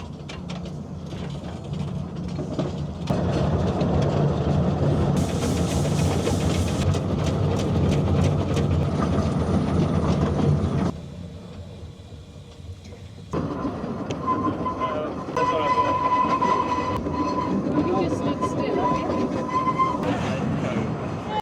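A steam train on the Isle of Man rumbles and clatters along the rails as it starts off, steady mechanical noise, a brief quieter stretch midway, then a sustained hissing tone over the running sound.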